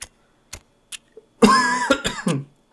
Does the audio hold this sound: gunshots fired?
no